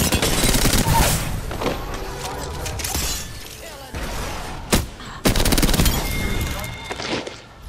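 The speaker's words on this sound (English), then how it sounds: "The enemies are shooting at me." Enemy gunfire in a video game: loud machine-gun bursts with sharp cracks and shattering impacts, coming in rapid clusters broken by brief pauses.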